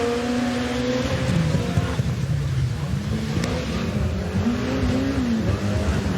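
A race car slides through a snowy corner on a Race of Champions track, its engine droning and revving at a steady, fairly loud level with wind noise over the microphone.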